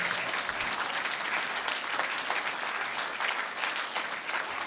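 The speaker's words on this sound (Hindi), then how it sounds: "मुझे लगता है एक बार हाथ उठा के तालियां होनी चाहिए" Enthusiastic audience applause at a Hindi kavi sammelan poetry recital, a dense, loud and sustained wash of clapping from a large crowd that holds steady throughout without any speech.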